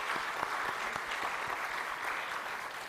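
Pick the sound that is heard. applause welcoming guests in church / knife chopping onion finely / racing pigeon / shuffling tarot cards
applause welcoming guests in church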